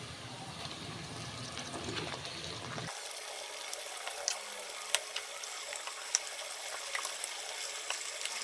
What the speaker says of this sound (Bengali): ম্যারিনেট করা মাংসটাকে এর মধ্যে তুলে দেব,